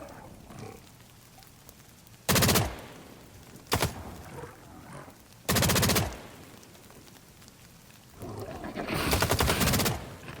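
An audio decoy grenade in the video game The Cycle: Frontier gives off four sharp bursts of fake gunfire over low ambient game noise, the last one longer and rattling.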